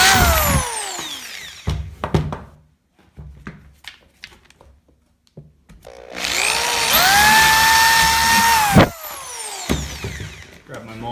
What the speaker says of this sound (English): So let's drill this.